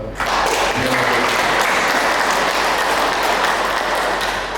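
Dense, sustained applause fills a hall at the opening of a provincial library training event in West Papua, a crowd clapping loudly and continuously for several seconds.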